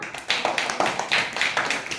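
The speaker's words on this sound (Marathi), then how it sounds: "तर यांना चॉकलेट बक्षीस मिळाले त्याबद्दल सर्वांनी यांच्यासाठी टाळ्या वाजवा." Schoolchildren in a classroom clap together for classmates who won chocolate prizes, a brisk, steady burst of many hands close by, with no talking.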